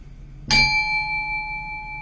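A meditation bell is struck once during a breathing exercise, giving a sharp bright strike that rings on with long, clear sustained tones and slowly fades, alone in a quiet room.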